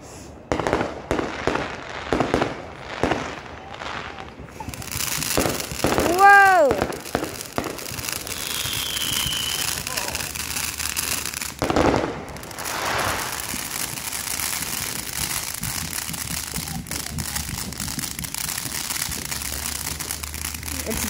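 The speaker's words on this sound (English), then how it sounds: "my dad's about to light this firework" Fourth of July fireworks lit by a family member at home, opening with scattered pops, then a burst of loud crackling bangs and sizzling sparks that continues as a dense crackle, with a dog and people nearby.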